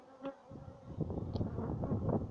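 Honeybees buzz around backyard hives in a dense, continuous drone that swells after the first second, with single insects whizzing close past now and then.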